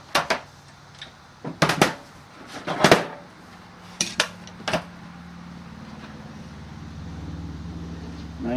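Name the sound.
metal gearbox gears being laid into a pan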